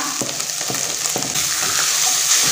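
Onion added to about 300 grams of ground beef already frying, with a loud, steady sizzle and scattered stirring taps close by that swell slightly as the onion hits the pan.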